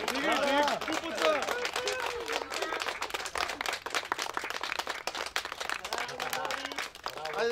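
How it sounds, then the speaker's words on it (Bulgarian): Applause and clapping at a children's league award ceremony on a beach, a crowd clapping loosely and unevenly throughout, mixed with voices and movement nearby. "аплодисменти"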